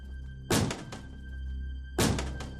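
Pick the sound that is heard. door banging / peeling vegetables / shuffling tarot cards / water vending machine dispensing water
door banging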